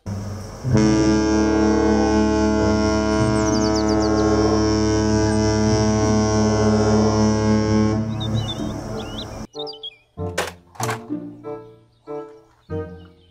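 Toy cruise ship sounding a deep foghorn-like blast with a rumbling mechanical hum, held steadily for about eight seconds, followed by short bursts of electronic beeps and tones.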